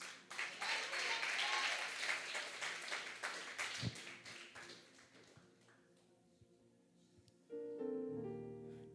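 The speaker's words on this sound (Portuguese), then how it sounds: "Aplaude a Jesus." Church congregation applauding during a worship service, a broad burst of clapping that fades gradually over several seconds, after which sustained organ or keyboard tones enter and swell near the end.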